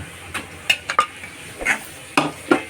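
Mashed vegetables for pav bhaji are stirred in a pan with the masala, soft scraping and several sharp clinks of a spoon against metal over a faint sizzle, close and intermittent.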